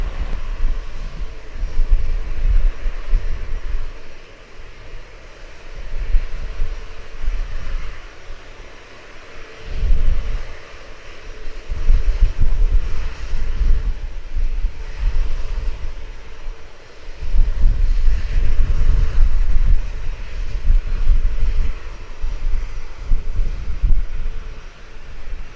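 A JetBlue airliner lands on runway 7 in a 14-knot wind, its engines a loud, steady roar that swells and ebbs over wind buffeting on the microphone, with no voices.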